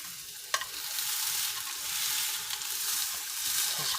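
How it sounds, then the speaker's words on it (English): Plantain slices sizzle steadily in a frying pan with hot oil, a continuous close crackle with a brief tap near the start. "Just press down. You can hear it sizzling. That's the water coming out of them."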